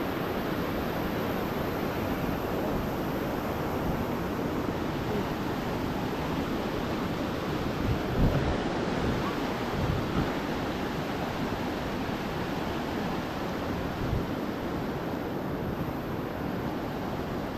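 Steady, heavy rush of overflowing floodwater in a river, a continuous loud roar of current with no breaks.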